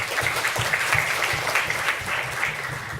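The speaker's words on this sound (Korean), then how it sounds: "박수 주십시오." An audience at a youth debate forum claps for three seconds in a moderate, continuous patter of many hands, with no voices breaking through.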